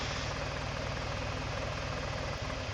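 A video-game car engine idles in a garage as a loud, steady low rumble with no change in rhythm, running alone with no one talking.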